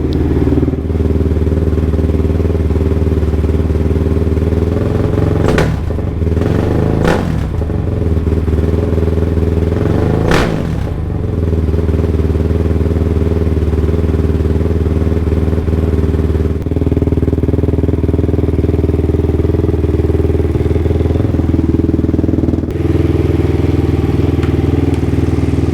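Freshly rebuilt motorcycle engine, still in break-in, idling loudly and steadily close by, with a few sharp revs and clattering mechanical chatter throughout.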